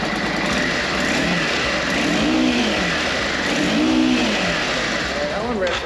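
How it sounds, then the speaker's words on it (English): A standard-muffler Yamaha XVS650 cruiser motorcycle engine revs repeatedly to high pitch, rising and falling in steady swells, close by with voices talking over it. "that one revs a lot higher too"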